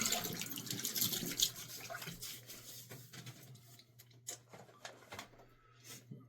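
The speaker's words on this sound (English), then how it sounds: "So, wet the face." Water running from a tap while the face is wetted during a grooming and trimming routine, a steady splashing stream that thins into scattered drips and splashes.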